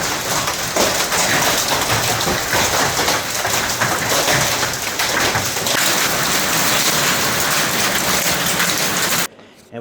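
Massive hailstorm with big hailstones hammering down outside a front door onto a roof, a loud dense continuous roar and clatter that cuts off abruptly near the end.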